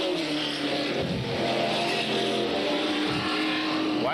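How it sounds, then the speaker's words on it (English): Super stock race cars roar around an oval track in a 1993 race, a continuous blended engine drone with one car's pitch rising near the end, heard from a moderate distance. "Pete Tingu stays in the lower, faster groove as they come around, racing for that 4th spot"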